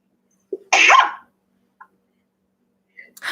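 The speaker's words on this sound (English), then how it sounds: "Hold on, I'm gonna sneeze." A single sharp human sneeze with a quick intake of breath just before it, loud and close in an otherwise quiet room, followed by a couple of tiny faint sounds.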